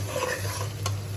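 A spice masala for duck curry is stirred and sautéed in oil, a brief, close sizzle with a quick scrape of the spoon across the pan.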